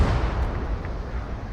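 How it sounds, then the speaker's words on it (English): A test shot fired in a wartime strategy video game set in the Fall of France, a dense, rumbling low boom that rolls on for over a second, loud and close, with no talk over it. "that's just me firing a test shot"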